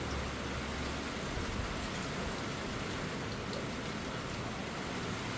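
Rain falls in a steady, even hiss, soft and continuous throughout with no voices.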